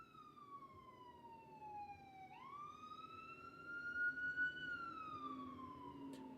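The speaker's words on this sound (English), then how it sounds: "Sorry, there was an ambulance passing by." An ambulance siren wails as it passes by, one long falling and rising sweep heard from a moderate distance, faint and clear over light background noise, with no talking.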